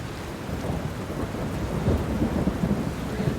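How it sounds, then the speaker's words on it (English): A thunderstorm rumbles low and heavy under steady pouring rain, a continuous deep roll of thunder with the hiss of rainfall throughout and no voices. "The weather is rainy here."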